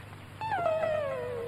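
A dog lets out a single drawn-out whine that starts high and slowly slides downward, close and fairly loud against a quiet indoor background.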